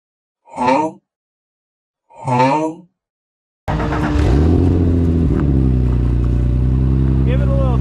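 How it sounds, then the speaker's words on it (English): A drift car's manual engine fires up abruptly after two short spoken phrases in silence, then settles into a loud, continuous rumbling idle and rev, with a voice briefly heard over it. "You gotta push the clutch in to start it."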